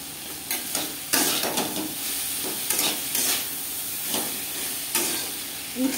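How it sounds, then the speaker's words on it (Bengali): Bitter gourd and drumstick pieces frying in a pan with turmeric and salt, a steady close sizzle with repeated scraping stirs at irregular intervals throughout. "হালকা করে ভেজে নেব।"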